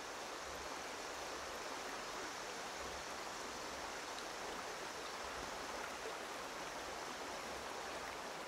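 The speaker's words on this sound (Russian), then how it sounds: "Когда лед тает, вода стекает и образует реку." A glacial meltwater river flows in a steady, broadband rush of water. It sounds continuous and even, fairly close, and no voices can be heard.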